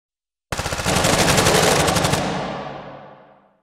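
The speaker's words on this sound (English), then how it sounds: "let's see what all of these gunshots sound like on their own." A rapid burst of designed, synthesized gunfire, a fast run of sharp shots that ends in a long, fading reverberant tail, loud and alone.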